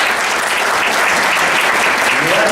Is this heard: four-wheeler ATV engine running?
no